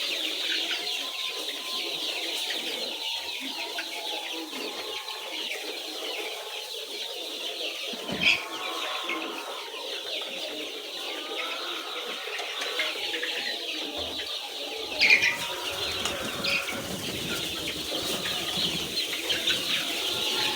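A crowd of chicks and young chickens in a poultry house chirps and clucks continuously, with a couple of louder bursts of wing flapping close by.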